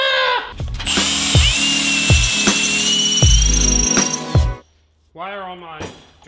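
Power drill with dull, worn bits drilling into metal while making a turbo Miata intercooler mount, a loud whining motor with repeated grinding bursts, then a short pause and another rev.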